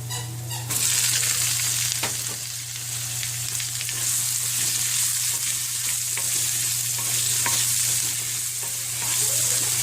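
Sliced onions frying in hot oil with ginger and garlic in a pan for a mushroom dish, a steady loud sizzle with occasional stirring scrapes, close and continuous, no talk.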